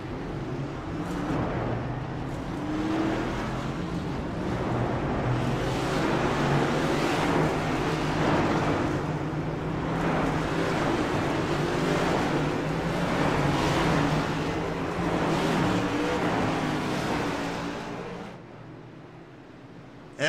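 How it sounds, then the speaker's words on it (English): A steady, droning rumble of race car engines rolling slowly off pit road at Kansas Speedway, a continuous low roar with slight pulsing that holds for most of the stretch before fading near the end. "Here they go, rolling off pit road."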